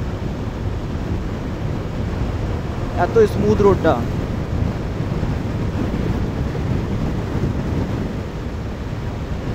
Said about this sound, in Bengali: শুধু হাওয়াটা কন্টিনিউ চলছে